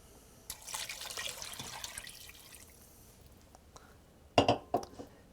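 Chicken stock pours into a soup pot of potatoes, leeks and water for a classic French vegetable soup, a soft liquid wash in the first half, then a few louder splashes and clinks near the end.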